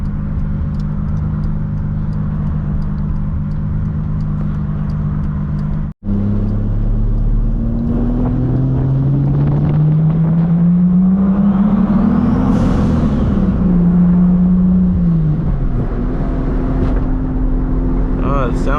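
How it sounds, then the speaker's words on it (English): A car with a 2JZ engine and log manifold idles and revs, its smooth exhaust drone rising and falling steadily, close and loud in an enclosed space, with a brief cut partway through. "What do you guys think about the way the car sounds, like the exhaust tone?"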